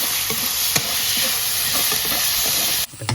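Ginger garlic paste stirred in a hot pan for chicken curry, a steady loud sizzle with faint stirring scrapes that cuts off abruptly near the end.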